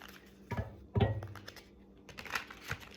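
New, sticky, shiny tarot cards are shuffled by hand in several quick, quiet bursts of soft tapping and riffling, close by, with no speech.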